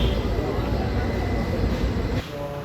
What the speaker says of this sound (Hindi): तो भाई हम पहुंच चुके हैं जगाधरी रेलवे स्टेशन पर।